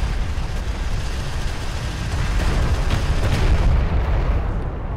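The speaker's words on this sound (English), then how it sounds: "Armor vehicle taking effective fire." Deep rumbling explosions and bursts of gunfire fill a battle in the real-time strategy game Homeworld: Deserts of Kharak, forming a dense, loud, continuous roar with no voices.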